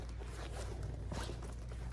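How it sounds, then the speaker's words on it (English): A zipper on a women's crossbody travel bag is pulled open close up, giving a soft, scratchy rasp that runs for about two seconds. "you have this other zipper right here"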